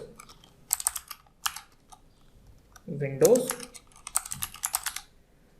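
Computer keyboard keys are typed in short bursts of quick clicks while text goes into an AutoCAD table. Someone speaks briefly in between.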